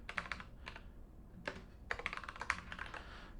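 Quick bursts of computer keyboard typing, clustered key clicks with short pauses between, close and fairly quiet, with no voice.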